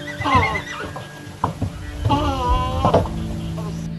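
Horses on an Icelandic blood farm whinny and neigh loudly and close by, with several wavering calls broken by short thumps and scuffling noises.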